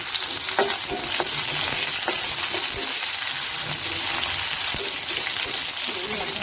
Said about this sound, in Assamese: লাহেকৈ ৰঙা ৰঙকৈ ভাজি কৰি ল'ম